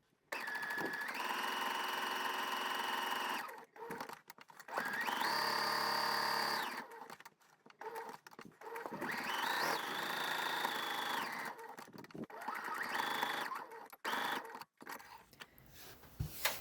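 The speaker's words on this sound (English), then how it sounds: "You're going to sew all the way around the outside of your square" A sewing machine stitches around the edge of a fabric square for a handwarmer pocket, running in several long steady bursts with short pauses between them, close and clear.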